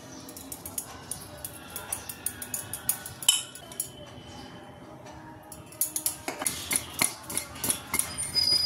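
Guava being mixed with salt and spices in a bowl, heard as a steady run of light metallic clinks and taps from a spoon against the bowl, quickening and growing denser toward the end.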